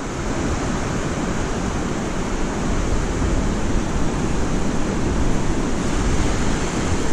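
Ocean surf washes steadily onto a razor-clam beach in a continuous loud roar of broadband noise with no distinct breaks, under wind.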